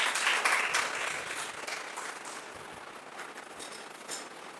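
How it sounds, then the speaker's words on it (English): An audience at a valedictory function applauds, a fairly faint spread of clapping that starts fuller and gradually thins out. "Big round of applause for Latif sir."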